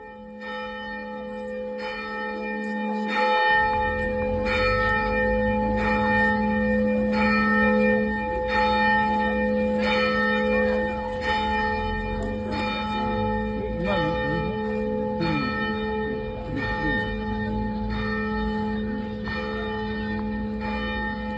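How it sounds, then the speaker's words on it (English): The bells of Urakami Cathedral in Nagasaki ring in a steady, repeating pattern of resonant strikes with long, overlapping tones that hang in the air for the whole stretch. "send us some audio of the bells ringing"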